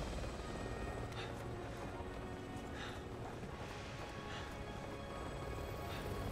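Steady helicopter rotor and engine drone from Resident Evil 6 fills the scene at a constant loud level, with faint rhythmic thumping and brief higher swishes layered over the continuous roar.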